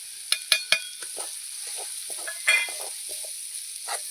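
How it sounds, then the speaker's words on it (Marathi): Chili powder, masala, coriander and turmeric powder roast in a hot pan with a soft, steady sizzle, broken by several sharp scraping strokes of a spoon, close and fairly quiet. "मस्त वास सुटेपर्यंत भाजून घ्यायचं"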